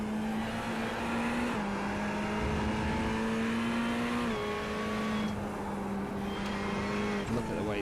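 Race car lapping Suzuka in a sim racing video game, heard from on board: a steady, high engine drone held near and loud, with pitch drops at gear shifts and a faint tire squeal near the end.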